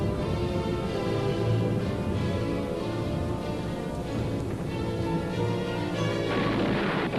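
Continuous WWII-era artillery fire and aerial bombardment around Monte Cassino, a dense, loud rumble of booms and crackling blasts that keeps going throughout with no voices.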